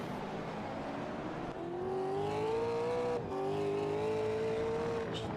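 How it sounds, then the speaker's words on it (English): A Chevy V8 Supercar engine roars in a racing game, a loud sustained tone that climbs in pitch, drops briefly at a gear change, then climbs again. "Yeah, how angry the car is."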